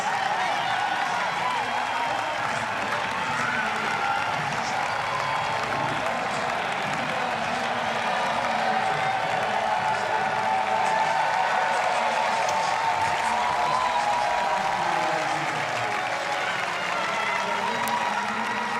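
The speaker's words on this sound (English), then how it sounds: "All the Germans get an extra cheer when they come down the blue carpet" A crowd at the finish of a European Championships triathlon in Munich cheers and applauds steadily, a dense wash of clapping and shouts lasting throughout, with a commentator's voice faintly over it.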